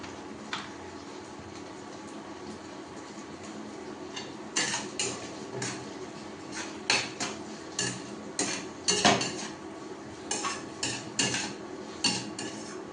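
A metal utensil clinks and scrapes against a pan in irregular bursts, stirring pasta with tomato ketchup, with no talking.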